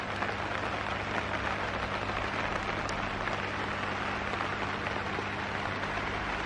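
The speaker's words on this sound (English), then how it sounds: "Oh God, listen to that rain." Heavy rain pours down steadily on a hot tub, a dense hiss of drops drumming on surfaces with no break.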